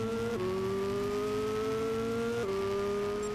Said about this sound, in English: it sounds as if a food processor was used to capture the engine noise